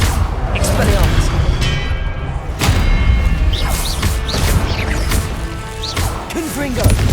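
An Expelliarmus disarming spell strikes in Hogwarts Legacy amid a spell-heavy duel, with repeated sharp cracking impacts and crashes ringing out over steady battle noise and scattered creature shrieks.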